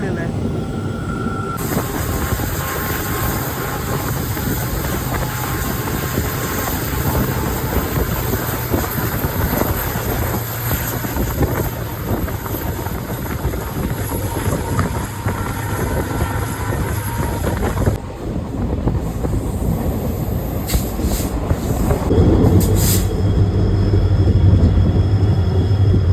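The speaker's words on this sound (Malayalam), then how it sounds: "ഇപ്പോഴാട്ടോ ശരിക്കും ട്രെയിനിൻ്റെ ആ ഒരു ഫീൽ കിട്ടുന്നത്. പ്രത്യേക സൗണ്ട്, ചെറിയൊരു കുലുക്കം, ഹോണ്" A diesel locomotive train runs on the line between Mangalore Central and Subrahmanya Road with a continuous rumble, rattle and wind roar heard from on board. A deeper tone swells near the end, which may be the horn.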